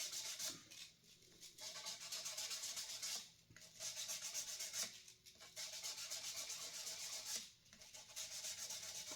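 800 grit sandpaper rubs steadily across the body of a Gretsch G5420T guitar in London Grey, a soft, faint, continuous scratching with brief pauses at about two-second intervals.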